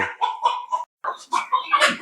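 Village chickens on a goat farm clucking in short, busy bursts close by, several birds calling one after another with a brief pause in the middle.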